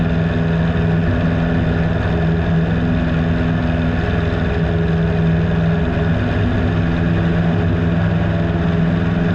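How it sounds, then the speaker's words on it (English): Steady, loud drone of a 150-horsepower Piper Super Cub floatplane engine in flight on a cool day over Northern Ontario, a continuous low hum with strong harmonics and no talk over it. "These Super Cubs have 150 horsepower in them."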